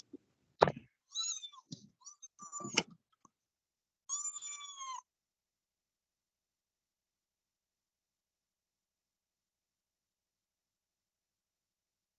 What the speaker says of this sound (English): Oh, that was your kitten.